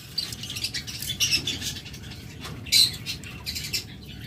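A split ino pair of caged pet birds gives scattered chirps and squawks, with brief wing flutters and rustling over a steady low background noise.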